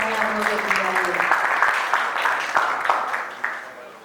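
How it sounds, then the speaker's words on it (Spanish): Audience applause at an orange-economy entrepreneurship fair by SENA Antioquia, 2019: steady clapping from a crowd holding for about four seconds, at first partly under a voice, with a few louder claps standing out. "Damos entonces un fuerte aplauso"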